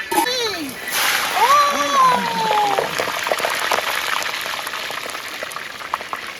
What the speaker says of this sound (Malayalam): അപ്പൊ അവിടെ കിടന്ന് പൊള്ളി വെന്ത് വരട്ടെ.